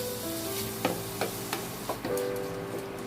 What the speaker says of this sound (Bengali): লবণ দিয়েও বেশ একটু ভাজা ভাজা করে নিচ্ছি